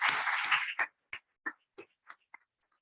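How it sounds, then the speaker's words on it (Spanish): A short burst of audience applause at a Spanish-language awards ceremony, dense clapping that thins quickly into a few scattered, isolated claps spaced out before fading to silence. "un aplauso porque ha sido un gusto"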